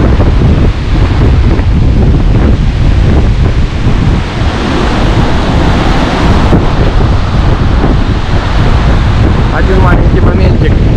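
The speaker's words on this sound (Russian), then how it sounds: "сильнейший ветер" Strong wind batters the microphone on a stormy seaside beach on the Black Sea at Lazarevskoye, roaring constantly over crashing surf, loud and close throughout.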